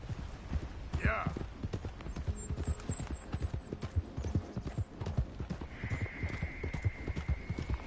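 Horse galloping in Red Dead Redemption 2, a steady fast run of clip-clop hoofbeats throughout, with a brief whinny and game ambience while a person talks over it.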